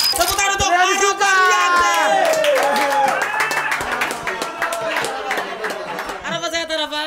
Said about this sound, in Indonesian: Tepuk tangan untuk Rian Suka.